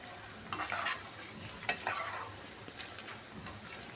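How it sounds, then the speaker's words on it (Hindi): Boondi droplets fry quietly in oil while being turned over, a soft, faint sizzle broken by a couple of sharp scraping clinks of the spoon early on, then a low steady hiss. "अब 1 मिनट बाद बूंदियों को इस तरह से उलट पुलट करना है।"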